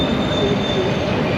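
A German train rumbles through a station with a continuous loud roar and thin, drawn-out wheel squeals over the steady rail noise.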